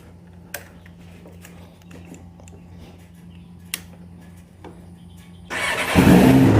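A Kawasaki ZX11 motorcycle ticks over at a quiet idle with a few light clicks, then its engine suddenly revs up loud and close as the bike pulls away.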